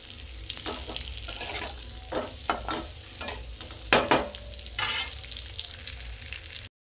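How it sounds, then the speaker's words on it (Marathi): Food sizzles steadily in a pan while a utensil scrapes and stirs it in repeated short strokes during egg curry preparation; no one speaks. "असे छान फ्राय करून घ्यायचे।"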